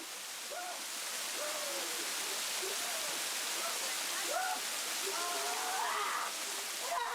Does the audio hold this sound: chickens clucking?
no